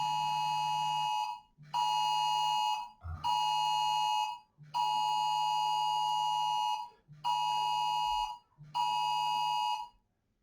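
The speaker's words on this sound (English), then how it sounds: "that'll be the government alert on my mobile phone, which is next to us" A government emergency alert sounds from a nearby mobile phone: a loud, piercing dual-tone blare repeated in six long bursts with short gaps, heard alone and close.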